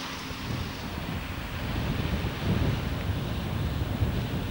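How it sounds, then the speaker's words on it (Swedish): Cold wind buffets the microphone at a seaside campsite in northern Norway between Kvaenangsfjellet and Alta, a steady loud roar that swells midway, with surf-like rumble beneath and no speech. "men det blåser ganska kallt."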